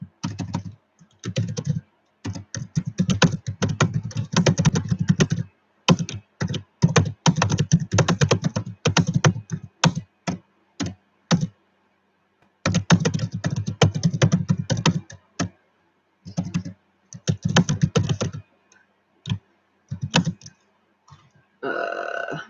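Bursts of rapid clattering keystrokes on a computer keyboard, close and fairly loud, broken by short pauses between runs of typing.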